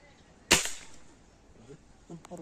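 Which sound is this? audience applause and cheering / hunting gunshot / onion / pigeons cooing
hunting gunshot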